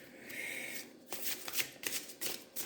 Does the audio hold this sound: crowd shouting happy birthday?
no